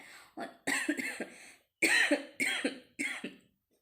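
A run of harsh coughs, close by, in about four bursts with brief pauses between them, ending in quiet.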